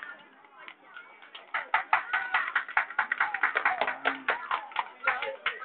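Audience applause at a community event in Ching Ho Estate, Sheung Shui: scattered claps build into a steady, fairly close round of quick hand claps that runs to the end, with murmuring voices faintly underneath.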